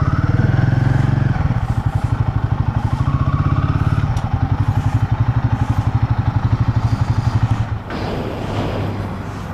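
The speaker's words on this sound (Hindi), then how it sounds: "बाइक पर आई हूँ, बाइक मैंने यहाँ पार्किंग में पार्क कर दी है।" A motorcycle in a temple parking lot idles with a loud, close, fast thumping putter, then the engine is cut near the end, leaving quieter background noise.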